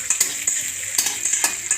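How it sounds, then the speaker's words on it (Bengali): Onions and green chillies sizzle in hot oil in a wok, a steady close crackle broken by sharp bursts as the pieces are stirred, with no talk. "এবার পেঁয়াজ দিয়ে দিলাম কড়াইতে, পেঁয়াজ তেল দিয়ে পেঁয়াজ আর কাঁচা লঙ্কা।"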